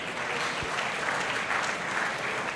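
A student audience claps loudly and continuously at a song-and-speech performance, a thick, even wash of hand claps filling the whole moment with no pauses.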